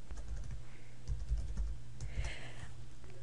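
Steady typing on a computer keyboard, quick soft key taps in short bursts, close and alone with no talking.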